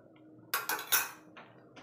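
Cutlery clinks and scrapes against a plate while someone eats chilli chicken in a hostel room, three quick close metallic taps followed by two softer scrapes.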